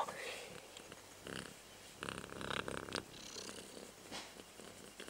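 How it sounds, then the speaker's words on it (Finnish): A cat purrs softly and steadily at close range, with brief louder bursts of movement or handling noise and people talking intermittently. "Pikkuisen pitää kehrätä."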